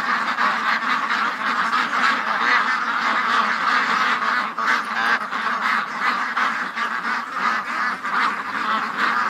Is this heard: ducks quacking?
yes